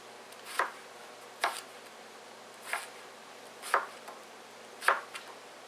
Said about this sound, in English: I just cube the potatoes. Cut it in half and then slice that.